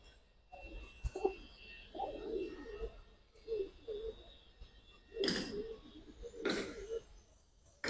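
Pigeons at a seller's stall, sold as flying and breeding birds, coo in repeated soft throaty bursts, with a couple of louder rustling flurries of wings or movement close by.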